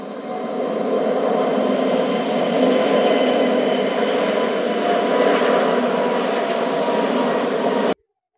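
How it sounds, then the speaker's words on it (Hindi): An aeroplane engine gives a steady, loud, broadband roar with a droning hum that holds constant for several seconds before stopping abruptly. "एरोप्लेन मीन्स हवाई जहाज।"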